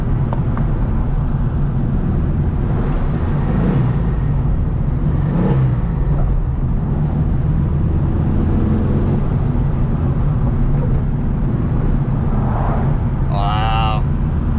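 A Volkswagen Beetle drives along with a steady low engine drone and road rumble inside the cabin, continuous and fairly loud, with faint voices briefly audible over it.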